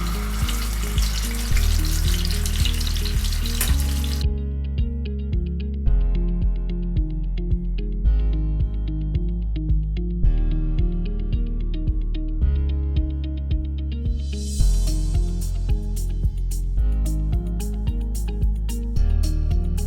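Pomfret fish frying in hot oil, a steady sizzle that runs the whole stretch, rougher and brighter at the start and near the end, with a softer crackle between and a repeating tonal layer over it.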